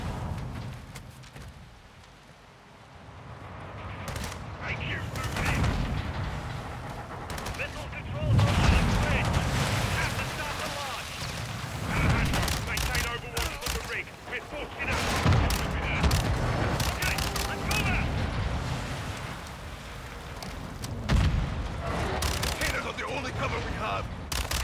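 A sustained gunfight rages in Call of Duty Modern Warfare 2, with dense bursts of automatic fire and heavy booms rolling through the whole stretch, swelling and easing in waves while shouted voices cut in over the shooting.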